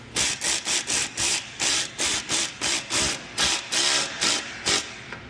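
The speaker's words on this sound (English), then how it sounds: "I'm going to take the 10mm here," A ratchet wrench tightening a 10mm bolt on a splash guard of a 2022 Nissan Frontier Pro4X, a steady run of loud, close clicking strokes in an even rhythm, with no voices.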